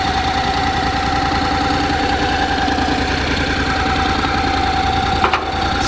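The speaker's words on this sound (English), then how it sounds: "Parallel twin 700, good sounding motor." Honda CTX700N parallel-twin 700 motorcycle idles steadily up close, an even low throb with a faint click near the end, no talk over it.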